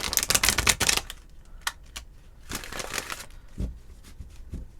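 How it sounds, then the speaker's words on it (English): Playing cards shuffled by hand, a rapid burst of crisp riffling and flutter followed by a pause, a single snap, then a second, softer round of riffling and taps, close and alone. "Let's get a couple shuffles in."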